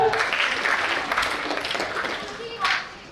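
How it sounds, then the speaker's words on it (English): Clapping from an audience at a college induction programme fills the hall in a sustained, fairly loud wash, with a voice rising briefly over it near the end. "Round of applause for"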